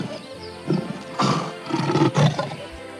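Hungry lions attacking a baboon in the wild, with several short, rough roaring bursts close by and growls in between.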